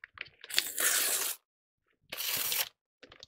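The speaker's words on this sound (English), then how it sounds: "I don't know how to open a package, apparently." Close-up tearing and crinkling of packaging in two loud bursts, with a brief pause between them and small rustles at the end.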